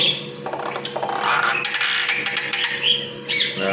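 Myna bird calling up close, a run of bright chirps, squawks and whistled notes over a steady low hum, with a brief sharper burst near the end.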